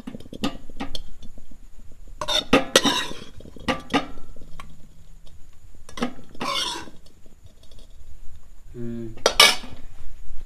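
Metal pots holding cooked rice and taro vegetable curry are clanked and covered with lids in a rural hill-home kitchen, several sharp close clinks and scrapes in bursts, with brief speech between them.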